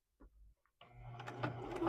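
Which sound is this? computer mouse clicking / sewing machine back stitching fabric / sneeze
sewing machine back stitching fabric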